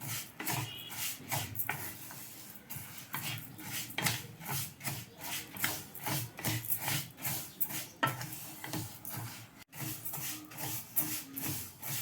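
Rice and moong dal dry roasted in a pan with no oil or ghee, a steady scraping and rubbing of grains stirred against the metal, repeated in quick rhythmic strokes, close and moderately loud, with no talk.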